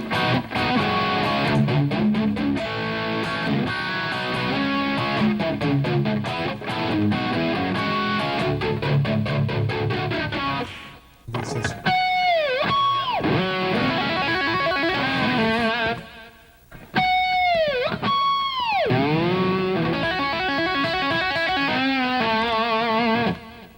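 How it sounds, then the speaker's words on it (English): Distorted electric guitar played through a flanger pedal, with fast riffing and chords whose tone sweeps up and down in a jet-like whoosh, loud and close with two brief pauses, no talking. "Then he'll step on his flanger."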